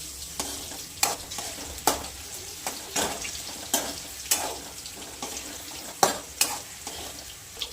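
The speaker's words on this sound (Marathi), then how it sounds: "भेंडी आता तळली, आपण थोडीशी अजून तळली" Okra frying in a pan as a utensil stirs it, with a steady soft sizzle broken by about a dozen sharp scraping clacks at irregular intervals.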